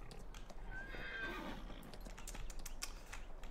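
Horse in a farming video game whinnying once with faint hoof clip-clop, quiet and slightly distant over a low steady hum.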